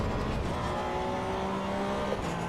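Tires squeal loudly as a race car corners hard in the Assetto Corsa EVO racing game, a sustained tonal whine layered over a droning engine.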